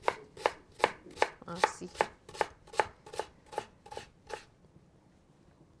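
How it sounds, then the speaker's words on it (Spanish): A halved onion is chopped with a knife on a board: about a dozen crisp, evenly spaced cutting strokes close to the mic, ending in quiet. "esta la partí por mitad y pues ya uno la va picando"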